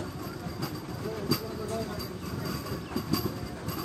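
A passenger train runs into Sitarampur junction in West Bengal on the main line, with a steady rumble and rolling wheel noise throughout and a few brief clacks, heard from on board.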